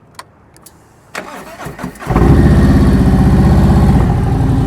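A motorcycle engine cranks after a few small clicks and fires up, settling into a loud, steady close-range idle.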